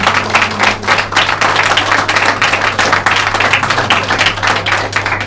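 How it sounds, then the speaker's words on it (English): Wedding guests clap for the bride and groom at their solemnization, a close, lively round of applause with distinct individual claps that keeps going steadily, alone and with a low hum beneath. "Come, a big round of applause for the beautiful couple."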